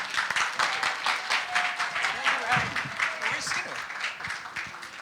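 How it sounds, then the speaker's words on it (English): Applause at an Indian American medical association gala, a steady roomful of clapping that stays loud and dense, with some faint voices and cheering mixed in. "Dr. Chundi, a big round of applause, please."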